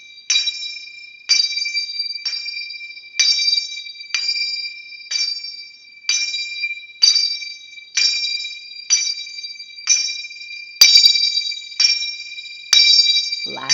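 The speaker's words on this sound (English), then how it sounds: "Those are your 4 basic zill sounds" Finger cymbals (zills) played for belly dance in a steady pattern of bright metallic clinks, with about a dozen ringing strikes roughly a second apart and a few quick doubled hits, each leaving a short shimmering ring.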